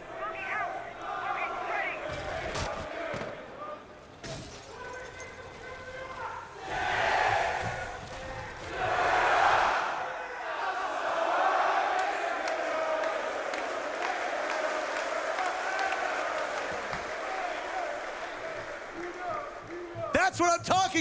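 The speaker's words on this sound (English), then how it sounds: "I'm expecting full choruses of cheers." An esports arena crowd roars and shouts during a match, a dense swell of cheering that rises and falls over the whole span, with an amplified voice speaking over it.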